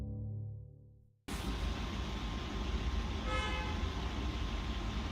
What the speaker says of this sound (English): Why did that thing sound like a car is what I'm asking.